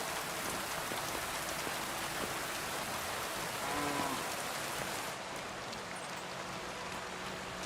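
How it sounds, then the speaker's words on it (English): Steady rain pours and patters on surfaces in the medieval world of the video game Kingdom Come: Deliverance II, a continuous even hiss with no voices over it. "Oh, so we're gonna move flour in the rain?"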